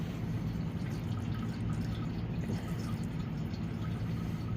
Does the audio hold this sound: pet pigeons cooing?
no